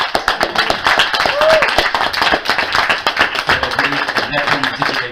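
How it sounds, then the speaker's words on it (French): Audience applause at a Québécois poetry afternoon honoring Émile Nelligan: steady, dense clapping fills the room at moderate loudness, with voices talking over it throughout. "Alors, on l'applaudit, on le remercie."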